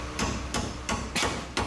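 A hammer strikes a car part during engine and drivetrain work on a Nissan 240SX, with five sharp, loud metallic blows spaced roughly a third of a second apart.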